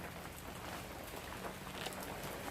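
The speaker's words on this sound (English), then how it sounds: "it's kind of raining a little bit" Light rain pattering steadily on surfaces in a Massachusetts state forest along a hiking trail, a soft continuous hiss with scattered drops throughout, no voices.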